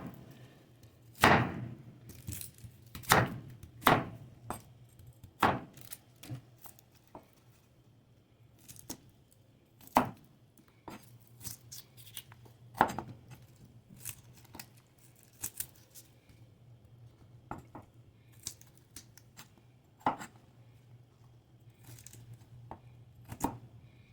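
Onions chopped on a cutting board, sharp irregular knife thuds, several close and loud early on, then lighter and sparser, over a quiet low hum.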